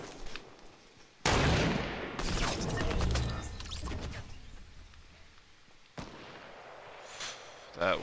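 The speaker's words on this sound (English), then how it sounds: "I'm gonna keep firing these RPGs, just keep shooting at him." RPG rocket launcher blasts in Fortnite: a sudden loud boom, then a second burst with a rushing tail, and another sharp blast later, separated by quieter gameplay ambience.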